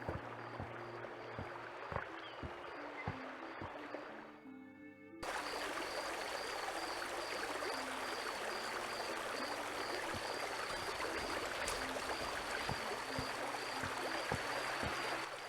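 Brook water in The Night of the Rabbit game flows and trickles continuously, a soft, steady rushing wash that swells louder after a brief quieter stretch, with faint ticking clicks throughout.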